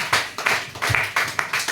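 Church congregation clapping in a rhythmic beat, a dense burst of many hands repeating about every third of a second, close and fairly loud with no voices.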